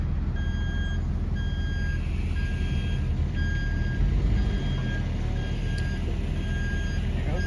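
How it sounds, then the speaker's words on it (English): Evenly spaced reversing beeps repeat over a low, rumbling truck engine as a car hauler backs into a driveway, the tones regular and steady throughout. "That beeping is loud."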